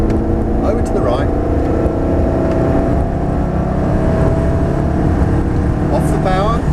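A Ferrari's engine roars close and loud as it pulls hard around a coned driving course. The drone holds steady and swells gradually under an instructor's voice.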